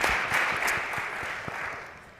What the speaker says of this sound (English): a round of applause for all of our amazing panel members